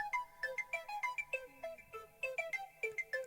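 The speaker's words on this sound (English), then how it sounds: "And then I also bring in these little arpeggios that are right here." Short, bright synth arpeggios ripple through a pop beat, quick plucked notes stepping up and down in a steady repeating pattern, with each note struck cleanly and decaying fast over a soft low backing.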